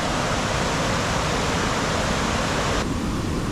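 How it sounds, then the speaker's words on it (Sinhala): Na Ella waterfall crashing down, heard from its top on a rock during a hike as a dense, constant roar of rushing water, loud and unbroken throughout. "ඒ අල්ල කඩා හැලෙන අපූර්ව"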